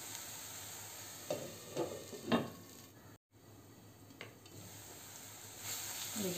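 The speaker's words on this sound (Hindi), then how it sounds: "मसाला हमारा भून रहा है बढ़िया सा" Masala for rajma fries in a pan, a faint steady sizzle broken by a few scraping stirs with a spoon, then a brief gap and quieter frying.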